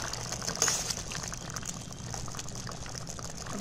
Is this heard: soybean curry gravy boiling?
yes